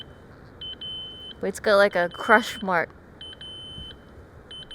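An electric wheelchair emits repeated short high-pitched error beeps in a night-time Tokyo street, clustered at the start and end, with someone speaking over the middle.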